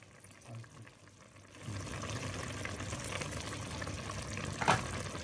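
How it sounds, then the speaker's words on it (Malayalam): Lemon juice is poured over Thalappakatti biryani in a cooking pot, heard as a soft, steady liquid hiss that starts partway through and continues close by without speech. "ഈ ടൈമിലാണ് നമ്മൾ ലെമണിൻ്റെ ജ്യൂസ് ആഡ് ചെയ്ത് കൊടുക്കേണ്ടത്."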